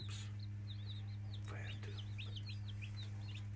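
Baby chicks in a brooder coop peep in a quick run of high, faint chirps over a constant low electrical hum.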